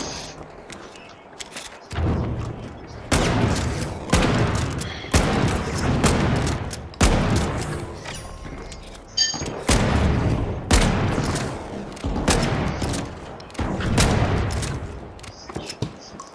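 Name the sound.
gunshots in the video game THE FINALS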